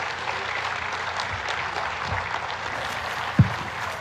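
Audience applause for the President at a Philippine Coast Guard ceremony, a steady broad wash of clapping across the whole stretch, with one sharp louder clap or thump standing out near the end.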